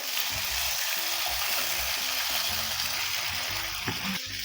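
Large chopped tomato pieces drop into a pan of frying chilies, bringing a steady loud sizzle with faint stirring and scraping underneath.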